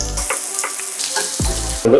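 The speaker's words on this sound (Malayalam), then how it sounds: "ഇഞ്ചിയും വെളുത്തുള്ളിയാണ് ആദ്യം എണ്ണയിലിട്ട് സോട്ട് ചെയ്ത്" Ginger and garlic sauté in hot coconut oil for a Kerala-style prawn dish, a close, steady sizzle and crackle lasting the whole brief moment.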